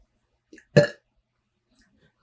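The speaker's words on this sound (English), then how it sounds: "I triggered your burp" A single short, loud burp bursts out close by, with a couple of faint clicks before and after and otherwise silence.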